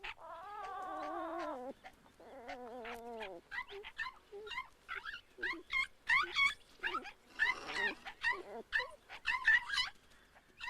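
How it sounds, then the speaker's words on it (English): Ethiopian wolf pups play-fighting yelp, whine and squeal in rapid, choppy bursts, starting with drawn-out wavering cries and then turning into a flurry of short, sharp yips close by. "For Sanatay's pups, though, the fights soon become torture"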